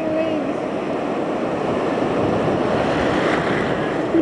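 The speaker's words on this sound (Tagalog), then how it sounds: "Waves." Big ocean waves at Boracay beach make a steady, loud, close roar of surf mixed with wind buffeting the microphone, with no clear break in the wash.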